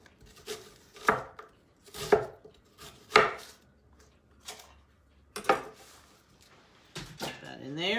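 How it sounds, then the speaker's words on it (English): A knife chops through an onion on a cutting board in a handful of distinct, separated thuds, close by, with a voice speaking between the cuts. "I'm just going to give it 2 cuts, and then we're going to slice it."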